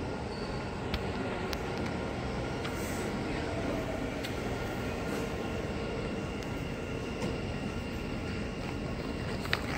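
A steady low rumble and hiss of a Dubai Metro train arriving at a station platform, continuous and fairly distant, with occasional faint clicks.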